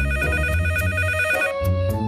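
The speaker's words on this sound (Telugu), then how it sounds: "ఈ రాత్రి వేళ ఎవరు ఫోన్ చేసేది?" A telephone rings at night in a cartoon, its electronic tone repeating in steady bursts over a continuous musical bed, fairly loud and close, with no talking.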